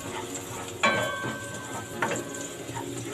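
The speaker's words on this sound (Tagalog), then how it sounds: "Gigisa lang po natin yung ating bawang." Garlic sautés in hot oil in a pan for chicken in BBQ sauce, giving a steady close sizzle broken by two sharp metallic clinks of a utensil against the pan.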